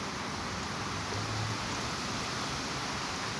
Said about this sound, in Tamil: இந்த மழை காற்று வந்து பயங்கரமாக இருக்குது